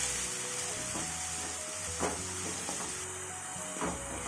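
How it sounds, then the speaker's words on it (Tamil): Onions sautéing in a pan for chicken mushroom gravy, a soft steady sizzle with occasional stirring scrapes, quiet and close, under a faint background hum and tones, no talking. "இப்போ வெங்காயம் போட்டுக்கிறேன். பச்சை வாசனை போகிற அளவுக்கு நல்லா வதங்கணும்."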